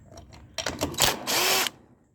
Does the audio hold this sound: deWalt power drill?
yes